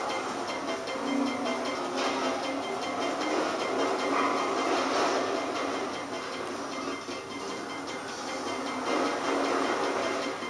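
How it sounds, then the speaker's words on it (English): A subway train in Grand Theft Auto 5 rumbles and rattles steadily and fairly loud throughout, a continuous broadband rail noise with no speech over it. "Oh, there's a subway."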